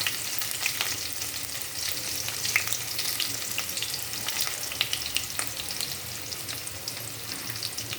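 Chopped onion frying in a pan of hot oil after the garlic, a steady close sizzle with occasional crackles and stirring scrapes, no talking.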